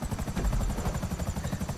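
A modified Havoc helicopter in a video game race course, its rotor beating in a steady rapid thump, loud and close with a constant engine drone and no talk.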